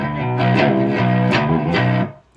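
A distorted electric guitar chugs out a few heavy metal chords with a thin, muddy, unpolished tone, loud and alone.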